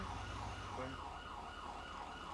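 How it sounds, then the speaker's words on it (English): Police car siren in GTA 5 wailing steadily and loudly throughout, its rising and falling tone sweeping over a low engine rumble, with no talk over it. "So I got my siren going."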